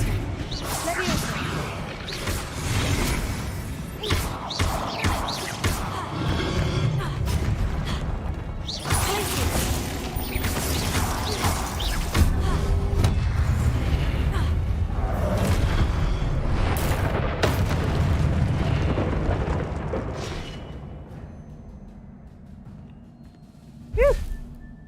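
Fire and explosive spells cast in rapid succession during Hogwarts Legacy combat, a dense run of booming blasts and crackling impacts under a continuous game soundscape, loud throughout before fading near the end with one last sharp hit.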